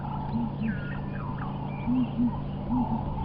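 Ground hornbills calling at sunrise on a safari drive: low, soft booming notes in short paired pulses, repeated a few times from a distance over steady background hum, with faint birdsong above.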